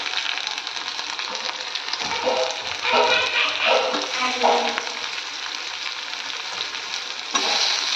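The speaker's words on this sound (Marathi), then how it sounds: "तर मी टाकते टॅमॅटो हा बारीक केलेला टॅमॅटो टाकते" Finely chopped tomato is added to a soybean curry frying in a pan, giving a steady, loud sizzle with some stirring scrapes throughout.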